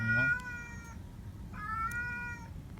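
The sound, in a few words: cat meowing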